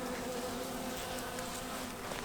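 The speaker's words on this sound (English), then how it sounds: "Halfway decent amount of bees here." Dense, steady buzzing of many honey bees at an open hive during a VSH breeder queen check, close and continuous throughout with no talk.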